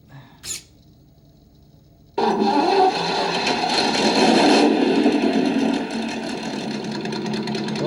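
A speaker mod on an MK07 RC crawler plays a simulated V8 engine. After a faint click it starts abruptly and holds a loud, steady, rumbling drone for about six seconds, easing slightly near the end.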